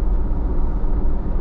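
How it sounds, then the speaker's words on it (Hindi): Steady, loud low rumble of a Jeep Wrangler Rubicon's off-road tyres rolling on the road, a continuous droning roar heard from inside the vehicle with no talk. "आवाज सुन रहे टायरों की?"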